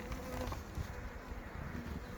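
Honeybees hum in a dense, steady drone at an opened LR beehive in an apiary, close and continuous throughout with no talking.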